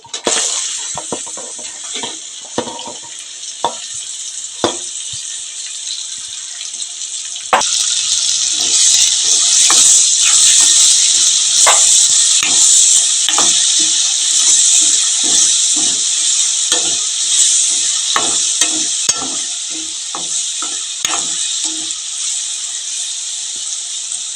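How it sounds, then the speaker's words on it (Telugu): Onions and green chilies drop into hot oil in a village-style pan for a prawn and brinjal curry, breaking into a loud, steady close sizzle after scattered clicks, with no talk. "ఆయిల్ వీటెక్కిందండి. ఉల్లిపాయలు పచ్చిమిరపకాయలు వేసుకుందామండి."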